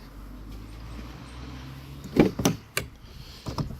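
A door on a 2007 Volkswagen Polo GTI 1.8 T is worked at close range, with a few sharp clunks and latch clicks after a quiet stretch, then softer handling knocks, and no talking.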